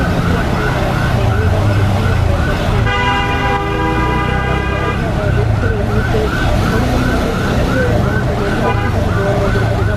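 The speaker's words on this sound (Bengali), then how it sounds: "আমার সামনে যে অ্যাম্বুলেন্সটি রয়েছে" An ambulance siren wails over loud road traffic as the vehicle heads toward Hazrat Shahjalal International Airport in Dhaka. The rising and falling tones repeat continuously, mixed with horn toots and engine noise.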